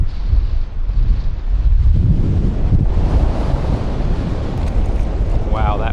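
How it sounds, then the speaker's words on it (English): Strong wind buffets the microphone on an ocean jetty, a steady loud roar over surf and waves, alone with no talking. "Wow, that wind."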